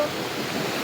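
A rushing stream in Gir forest gives a steady, broadband wash of flowing water, close and continuous with no pauses, and no voices over it.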